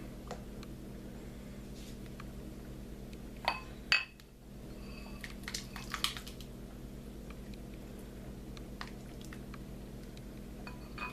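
Soup with potato chunks and sausage being ladled from a pot simmering on very low heat, a few soft clinks of the ladle against the pot around the middle, faint and close over a steady low background hum.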